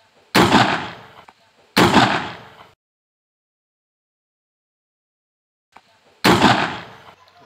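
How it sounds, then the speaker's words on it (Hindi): A homemade field cannon built to scare wild animals off farm fields fires three loud, sharp blasts outdoors, two close together and one after a long silent gap, each with a short ringing decay. "गाइस आप देखते हो कितनी जोरदार आवाज़ की हमारे जो बॉम्ब है उसने"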